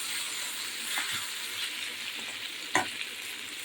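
Boiled potatoes seasoned with salt, pepper and turmeric fry in a pan, with a steady soft sizzle and occasional stirring scrapes and a louder clink near the end, no talking.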